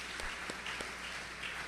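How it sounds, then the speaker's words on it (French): A church congregation claps during a conference service, a faint, distant patter of many hands with a few sharper individual claps standing out. "On nous applaudit le Seigneur plus fort."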